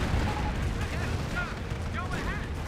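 Rocket barrage explosions from the World War II strategy game Company of Heroes, a dense, continuous rumble of blasts and booms over a few seconds with a commentator talking over it.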